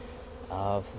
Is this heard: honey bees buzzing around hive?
yes